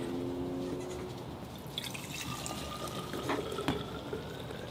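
Fresh milk is poured at a miniature goat birth, a soft liquid trickle and splash that rises into a brighter filling sound, faint under low background noise.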